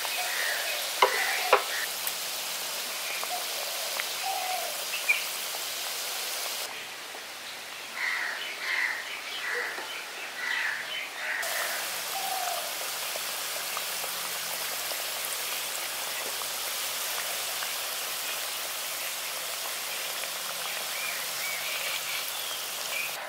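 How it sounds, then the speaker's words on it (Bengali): Biscuits frying on both sides in a pan of hot oil after being flipped, giving a steady, even sizzle with soft crackles that briefly dips quieter midway, with no talking. "সবগুলো বিস্কুট এখানে উল্টে দিয়েছি। এবার দুদিকটা সমানভাবে ভাজা হয়ে যাক।"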